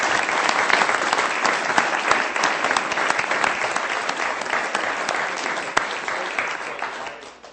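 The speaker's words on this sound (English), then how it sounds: "Can we have a round of applause for these folks?" Sustained applause from a large crowd at a Sioux Falls city council meeting, dense and steady throughout, gradually tapering near the end.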